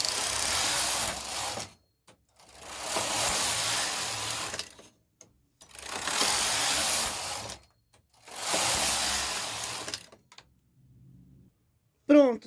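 Knitting machine with ribber carriage passing back and forth across a sweater collar: four loud, even whirring rattling sweeps, each about two seconds long, separated by short pauses, ending with a brief click.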